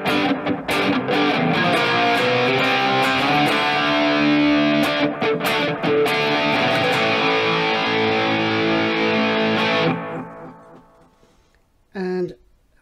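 Dense distorted electric guitar through a NUX Mighty Plug delay effect playing loudly, notes smearing and repeating into echoes, then cutting off abruptly, followed by a short strummed burst.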